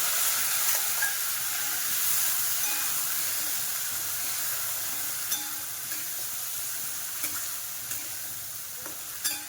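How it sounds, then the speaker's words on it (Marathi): Barnyard millet rice with cumin roasting in ghee in a pan, a soft continuous sizzle with a few faint clicks of stirring, moderately quiet and steady, no voices. "वरई चांगली भाजून घेणार आहे तुपामध्ये"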